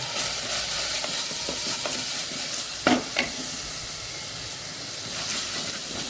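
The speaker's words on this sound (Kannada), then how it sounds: "ಅದರದ್ದು ಹಸಿ ವಾಸನೆ ಎಲ್ಲದರ ಹಸಿ ವಾಸನೆ ಹೋಗುವವರೆಗೆ ಚೂರು ಹುರಿಯೋಣ" Masala frying in a pan for an egg pepper fry, a steady hissing sizzle with a couple of spatula stirs and scrapes near the middle, close and without talk.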